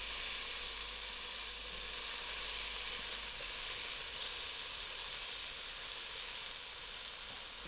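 Leeks softened in a pan, with potatoes just added for a creamy salmon soup, give off a steady, even sizzle that holds at a moderate level without a break, and no one speaks.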